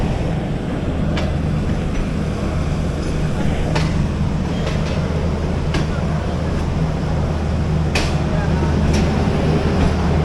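The Tezgam AC sleeper train travels toward Karachi, a loud continuous low rumble and rolling roar inside the carriage with occasional sharp clacks and knocks as it runs along the track.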